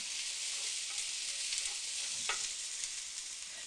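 Steady broadband sizzle of mushrooms sautéing in a pan over medium heat, continuous and fairly close, with a faint scrape of stirring partway through.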